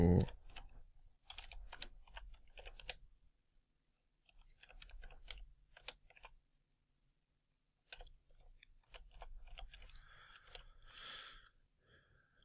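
Typing on a computer keyboard to fill in a podcast description, rapid close clatter of keys in several runs separated by brief pauses, no voices.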